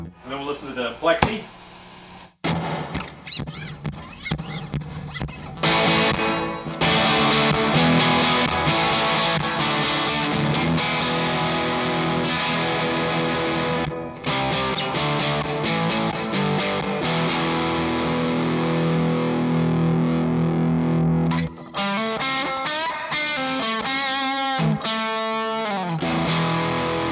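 Electric guitar played through the Plexi channel of a Marshall amp with a little reverb, loud and distorted with sustained chords and riffs running almost continuously, a few brief pauses between phrases.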